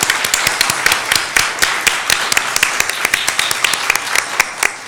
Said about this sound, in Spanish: les voy a pedir, por favor, un aplauso para Romina y para Leonora.